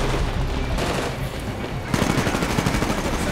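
Automatic weapons fire in the PC shooter Titanfall during a Militia campaign battle: dense, continuous bursts of rapid gunshots that thicken and grow louder partway through, with no clear talking over them.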